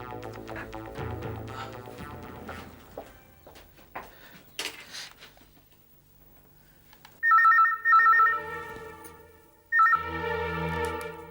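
After some muffled music, a telephone rings with an electronic trill, two long rings and the start of a third, fairly loud.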